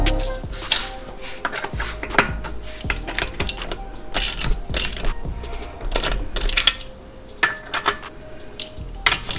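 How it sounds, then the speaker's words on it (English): Torque wrench tightening lug nuts on a BMW wheel after a stud conversion, close metallic ratcheting clicks and clanks in irregular bursts, loud with no voices. "Then we're gonna torque it down to 85 foot-pounds of torque."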